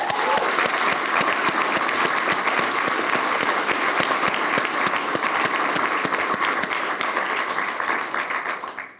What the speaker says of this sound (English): we'll show our appreciation to them via applause